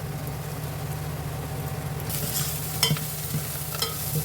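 Garlic paste with cumin fries in a pan with a steady, moderate sizzle, with a few clinks and scrapes of stirring near the end and no talking.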